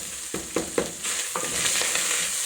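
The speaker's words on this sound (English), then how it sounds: "So you have to stir in for your minced meat to separate." Minced beef frying in a pot is stirred, with several distinct scraping strokes over a steady close sizzle that grows brighter and denser after the first second.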